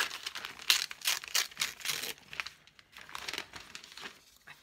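Old, long-reused wrapping paper crinkles and crumples up close in irregular bursts, busiest in the first two seconds and then softer and sparser, with no talking.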